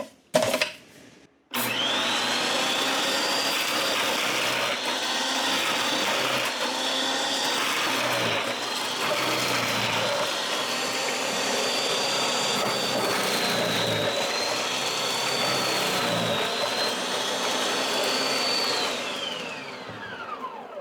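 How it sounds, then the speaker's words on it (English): A food processor grating sweet potatoes whirs loudly and steadily for about twenty seconds after a brief start, with slight pitch wobbles as food feeds through, then spins down. "now we're gonna grate some sweet potatoes."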